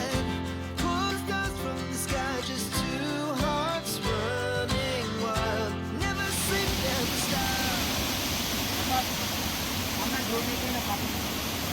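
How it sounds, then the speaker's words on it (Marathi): A waterfall swollen by overnight rain in Tamhini Ghat roars as a dense, steady wash of rushing water, taking over after a stretch of music at the start. "रात्रभर पाऊस चालू होता इकडच्या तामणी घाटात त्यामुळे हे खतरनाक पाणी आलंय वॉटरफॉल"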